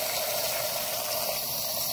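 Water running steadily over a gold sluice after being turned down a little, a continuous broadband wash with no voices.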